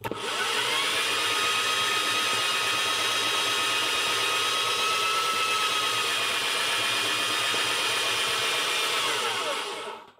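A neck turning tool shaves a brass cartridge case neck during ammunition reloading, a close, steady whirring scrape that runs unbroken for about ten seconds and then cuts off.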